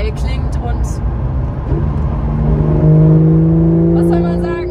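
A car engine without a petrol particulate filter hums close by, then rises in a sustained tonal drone as it revs, with brief higher chirps at the start and end.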